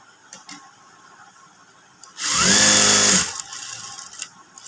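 A sewing machine stitches part of a frock during boutique-style finishing, running in one steady burst of about a second after quiet handling noises, with no talking.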